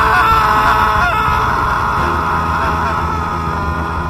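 A man's terrible, drawn-out scream as a speeding train crushes him at Bhojpur station, loud and close, wavering and strained, trailing into a lower groaning tone over a rumbling background.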